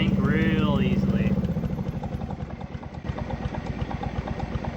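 Arctic Cat two-stroke triple turbo engine fitted with a modern crank sensor, idling with a fast, steady burbling pulse close by; a voice talks briefly over it at the start, then the engine runs alone.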